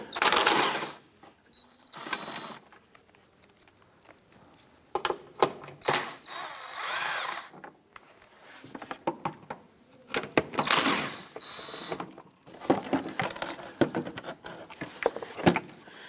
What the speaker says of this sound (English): Use our 10mm socket to go ahead and remove the 3 bolts holding the windshield washer tank.